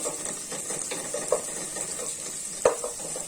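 Whole cardamom, cinnamon, bay leaves and cloves fry in oil for pulao, a steady close sizzle with light stirring clicks and a sharper knock near the end.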